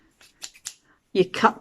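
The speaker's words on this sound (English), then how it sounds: "then you get your scissors and you cut" Scissors snipping through a plastic bottle for a butterfly craft, a few quiet, separate cuts followed by a louder burst of crunching plastic near the end.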